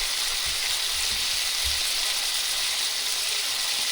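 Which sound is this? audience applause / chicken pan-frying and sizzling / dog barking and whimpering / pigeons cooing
chicken pan-frying and sizzling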